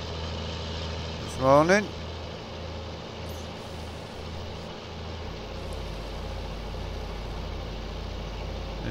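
A tractor engine in the video game Farming Simulator 19, on the road, holds a steady low drone throughout, with a brief louder burst early on. Someone talks over it.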